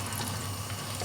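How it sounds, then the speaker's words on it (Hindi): Water is poured into ginger garlic paste in a cooking pan, a steady close rushing, splashing flow that lasts throughout. "मिक्स करने के साथ ही साथ इसमें आप थोड़ा सा पानी भी ऐड कर लीजिएगा"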